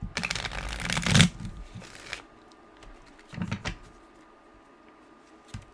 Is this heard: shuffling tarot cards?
yes